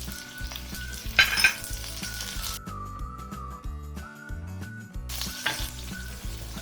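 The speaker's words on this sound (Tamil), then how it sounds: "தக்காளி போட்டுடுங்க." Tomatoes and onions fry in a clay pot while a catfish curry is being made, a steady sizzle running beneath louder background music with a brief stirring clatter.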